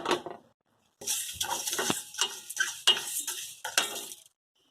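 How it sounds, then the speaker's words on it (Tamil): Moong dal is roasted in a pan, a metal spoon scraping and clattering against it in quick irregular strokes after a short opening scrape, close and fairly loud. "சிறுபருப்பை நல்லா வறுத்துக்கோங்க இதே மாதிரி பொன்னிறமாக வறுத்துக்கோங்க"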